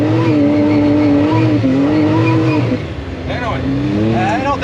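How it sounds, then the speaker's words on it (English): A Can-Am Maverick X3 EVO R3 side-by-side revving hard while its 32-inch tires spin on ice, a loud continuous engine roar with rising and falling pitch and squealing tire noise, close up throughout. "That would be the sound of my tires spinning on ice."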